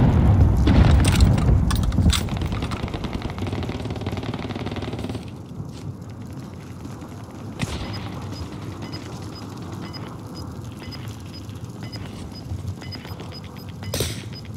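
Gunfire and explosions in Call of Duty Warzone, opening with heavy booming blasts, then scattered sharp shots and mechanical clatter fading into quieter bursts, with a loud shot near the end.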